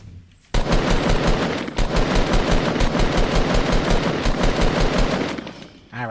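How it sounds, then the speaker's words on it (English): Rapid automatic gunfire from a video game rattles loudly and nearly continuously for about five seconds, a dense stream of evenly spaced shots with a brief dip partway through, then cuts off abruptly. "I'm gonna go over here and I'm gonna shoot at him."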